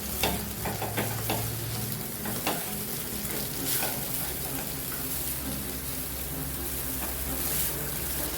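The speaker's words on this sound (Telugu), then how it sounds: "ఇది కలిపేసుకోండి రైస్." Chicken fried rice frying in a pan over fairly high heat, with steady sizzling and a spatula stirring and scraping through it in repeated strokes, fairly close and continuous with no talking.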